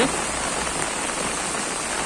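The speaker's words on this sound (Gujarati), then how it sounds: "આ રાજકોટ જિલ્લાના જેતપુર શહેરની અંદર જે કણકિયા પ્લોટ વિસ્તારની અંદર આ વરસાદ આપ જોઈ રહ્યા છો" Heavy rain pours in the Kankiya Plot area of Jetpur, Rajkot district, a dense, steady hiss of drops striking surfaces without a break.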